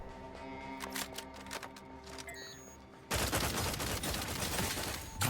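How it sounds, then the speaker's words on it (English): Rapid assault-rifle fire in the video game The Outer Worlds 2, a dense, loud continuous burst of shots that begins after quieter clattering and weapon handling. "Let's try one of these rifles."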